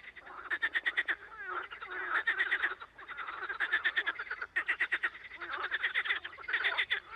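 A person imitates a frog croaking during a miming game, a rapid series of raspy, pulsing croaks repeated in bursts, close and clear with no other talk.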